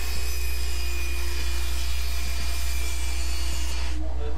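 Steady, close rasping of a saw cutting a wooden stair riser to fit on a prefabricated staircase, continuous and uninterrupted before stopping abruptly near the end.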